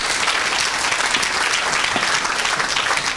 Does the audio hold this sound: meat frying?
no